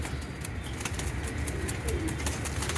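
Rare Royal Teddy pigeons imported from Pakistan coo softly amid rustling and light flapping, a steady low murmur close by with no voices.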